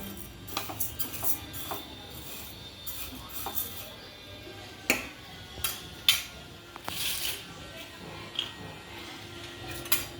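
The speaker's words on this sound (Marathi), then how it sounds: "मध्यम आचेवरती गॅस ठेवून आपण आपले तांदूळ भाजायला सुरुवात करूया." Rice dry-roasting in a pan over a medium flame for chakli bhajani flour gives irregular scraping and clinking stirring strokes, with sharp clicks scattered through a faint hiss.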